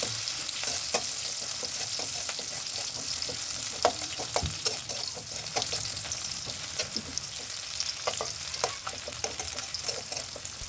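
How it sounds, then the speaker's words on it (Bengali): Chopped onion, garlic and slit green chilies sizzle and fry in hot oil as a spoon stirs them, a steady close crackle with frequent clicks and scrapes of stirring, no voices. "তারপর পেঁয়াজ কুচি, রসুন কুচি আর কাঁচামরিচ চেরা দিয়ে নাড়তে হবে।"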